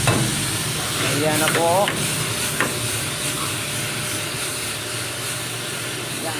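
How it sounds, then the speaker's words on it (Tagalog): Tofu sizzles on a hot plate with a steady steamy hiss and crackle that runs throughout, and a voice speaks briefly early on. "Yan po ang aming sizzling with tokwa."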